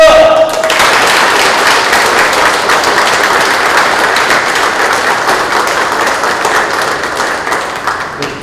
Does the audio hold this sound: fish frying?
no